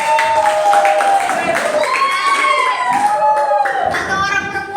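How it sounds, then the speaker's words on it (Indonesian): Students in a classroom clap for a classmate, with brisk hand claps under overlapping young voices that ring out close and loud throughout. "Tepuk tangan dulu buat Fakih."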